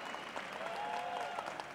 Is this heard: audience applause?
yes